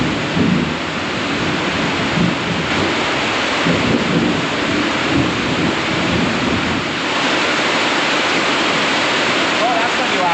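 Thunderstorm with close lightning, heard as a steady, loud roar of heavy rain and broadband rumble without a distinct single crack.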